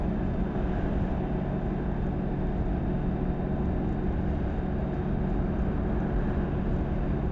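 BMW K1600GT SE six-cylinder touring motorcycle cruising on a motorway, a steady droning engine and wind roar that stays constant and close throughout, with no speech.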